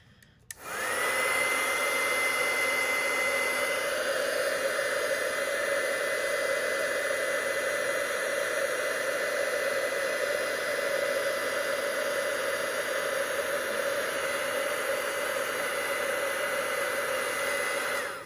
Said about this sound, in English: I'm just going to grab my heat tool and we'll heat this up.